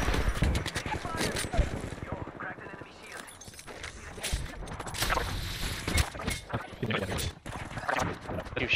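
Rapid gunfire bursts in a video game shootout, loud and dense, layered under excited players calling to each other throughout.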